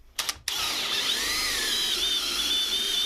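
A power drill runs a hole saw through material in an attic while pipework is fitted, cutting in after a short start-up burst as a loud, steady, whining grind with no talking.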